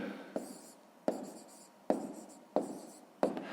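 A pen writes a math answer on paper in five short, crisp strokes at a steady rhythm, quiet and close, each stroke starting with a sharp scratch and fading out.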